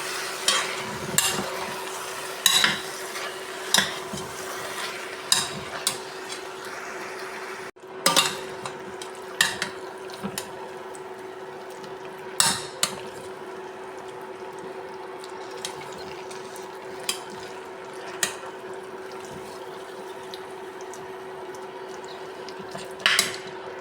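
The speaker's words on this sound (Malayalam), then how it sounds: "കപ്പയെല്ലാം ചേർത്തിട്ടുണ്ടെങ്കിൽ നന്നായി മിക്സ് ചെയ്തെടുക്കാം." Cooked tapioca and liver are stirred together in a pan, giving scattered clinks and scrapes of a utensil against the pan over a steady background hum, with no voices.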